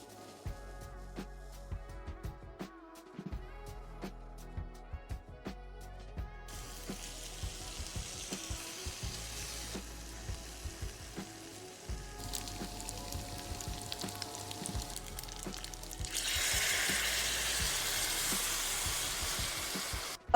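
Spaghetti all'assassina fries in a hot pan, a steady crackling sizzle that grows louder and hissier toward the end, with occasional clinks of utensils and no voices.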